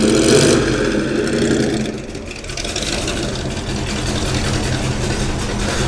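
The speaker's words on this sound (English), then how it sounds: "That is quite a vocal exhaust system." A Corvette Stingray V8 revs loudly with a throaty, rumbling exhaust, surging at the start and then settling into a steady growl nearby at a classic car meet.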